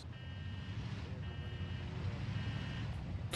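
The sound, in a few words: vehicle reversing backup beeper, from video game Arma Reforger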